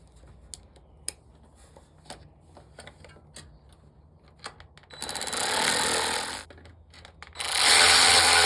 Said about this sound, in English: you can just take your ratchet wrench right here and just tighten them up